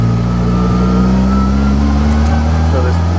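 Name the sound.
engine of a right-hand-drive Austin-Healey Bugeye Sprite running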